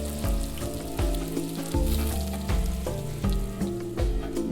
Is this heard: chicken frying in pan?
yes